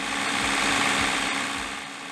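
An engine runs steadily at 1800 RPM under a CANplus CP1000 controller, giving a loud, continuous mechanical drone with a faint rhythmic pulse and no voices.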